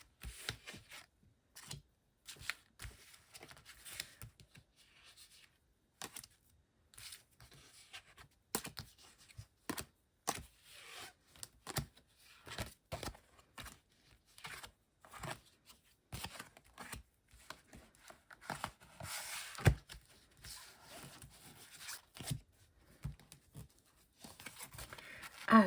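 Tarot cards handled and laid out on a table in a French clairvoyance reading: a long run of quick, dry snaps, slides and soft slaps, close and irregular, with short pauses between bursts and no voice.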